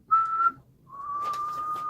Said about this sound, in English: So just whistle for me real quick too.